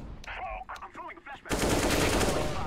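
Rapid automatic gunfire bursts in CS:GO, loud and continuous, following a few seconds of voices talking.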